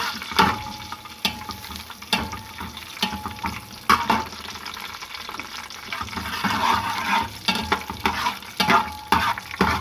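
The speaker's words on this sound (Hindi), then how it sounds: "हल्का सा इसको फ्राई कर लेंगे इन चीज़ों को।" Coconut, almonds and cardamom sizzle lightly in a pan for sweet yellow zarda rice, with a steady frying hiss broken by repeated scraping stirs of a spoon, close and clear without talking.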